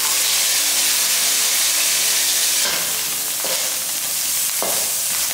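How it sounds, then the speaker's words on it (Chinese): Salted fish, washed and torn by hand, pan-frying in generous oil, giving a loud, dense, unbroken hiss up close, with a few soft bumps as pieces are moved; nobody speaks. "煎咸鱼"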